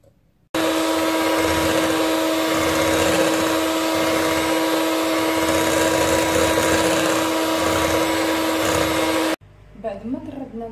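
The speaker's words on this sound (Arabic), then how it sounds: "غادي ندير السنيدة معاها الفاني، وغادي نطربهم ونرجع معاكم" An electric mixer whirs loudly and continuously for about nine seconds, beating eggs, sugar and vanilla for a caramel cake, with a steady motor whine that cuts off abruptly before a voice speaks.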